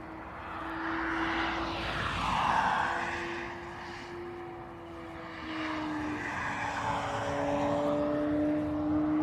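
An airplane engine drones steadily with a sustained tone at Dublin Airport, swelling in loudness twice as arriving aircraft pass fairly close, without speech.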